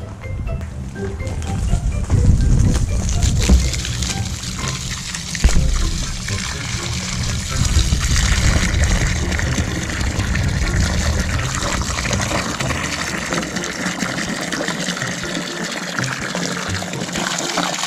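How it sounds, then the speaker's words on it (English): Regular water pouring into a container while holy water is being made, a steady loud gushing and trickling that runs for most of the stretch with no talk over it. "And then we put our regular water."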